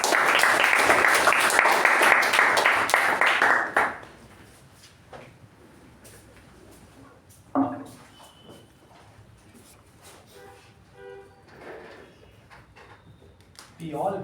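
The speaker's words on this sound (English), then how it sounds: "Please join me in welcoming Toastmaster Rahul with a huge round of applause." Audience applause welcoming Toastmaster Rahul at a Toastmasters club meeting, a loud dense burst of clapping lasting about four seconds before fading into quiet room sounds and scattered talk.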